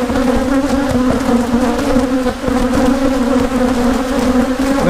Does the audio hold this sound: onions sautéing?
no